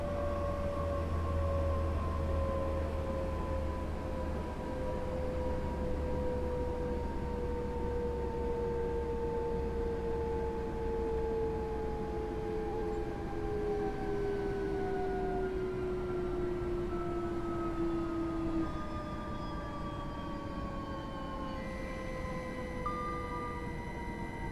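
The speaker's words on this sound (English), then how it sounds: "This is ETU 165 sound modded" An electric ETU 165 train, fitted with a modded sound, slows down in Train Sim World 5, its steady rising-pitch whine sliding downward over about twenty seconds above a constant rumble, loud and close with no talk.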